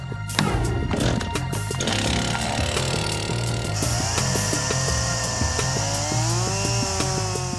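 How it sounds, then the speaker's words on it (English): Chainsaws bite into wood while a dugout boat is roughed out, a continuous loud mechanical drone with strained, rising and falling engine pitch and a steady low rumble, close and with no voices. "To speed up the process, Naked Science calls in the chainsaws."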